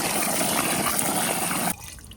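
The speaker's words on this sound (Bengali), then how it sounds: "এখন এই চাউল ধুইতে হইবে।" Fried rice grains are washed in water, with continuous close splashing and pouring that stops abruptly near the end, leaving only faint dripping.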